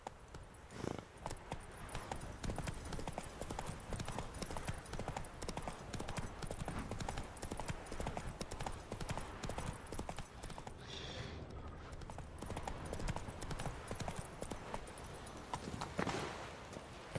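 Hooves of a horse galloping in the video game Witcher 3, a fast steady clip-clop rhythm that runs throughout, fairly loud and close.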